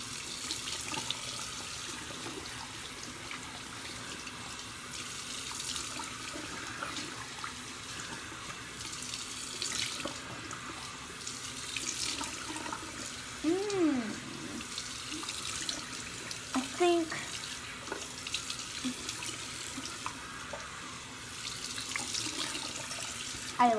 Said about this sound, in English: now I'm gonna rinse it off with warm water